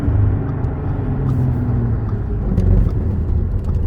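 A 2013 Audi S4 with an APR dual pulley runs with a slight knock, giving a loud, close, steady low rumble with faint clicks on top and no talk.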